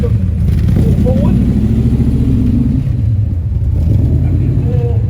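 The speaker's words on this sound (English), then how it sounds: "Listen to that 18 Cobra." An 18 Cobra car idling and burbling nearby with a loud, deep, steady engine rumble that runs throughout, while people talk over it.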